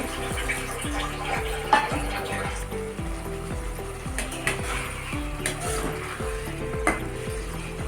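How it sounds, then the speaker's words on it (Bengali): Singi fish curry sautés in a pan with a little water, a close, steady sizzle and bubbling under repeated rhythmic scraping strokes of the spatula, with no voices. "একটু জল দিয়ে কষে নেব"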